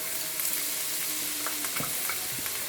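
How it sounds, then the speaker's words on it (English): Chopped tomatoes fry and sizzle steadily in a pan of spiced potato curry gravy with turmeric, with occasional scraping stir strokes and light clinks over a continuous close hiss. "I'm continuously stirring this mixture and then cooking the tomatoes in it"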